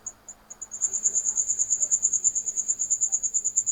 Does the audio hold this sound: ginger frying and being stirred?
no